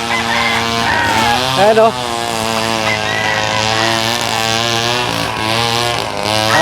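A grass cutter runs loud and close with a steady, buzzing engine drone that wavers slightly in pitch throughout, while someone talks over it.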